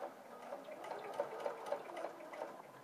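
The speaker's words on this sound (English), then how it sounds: "I'm going to sew it on my machine, and I'm going to sew from this point to that point." Sewing machine stitching a pleat, heard faint and steady with a soft, rapid ticking rhythm for a few seconds and no voices.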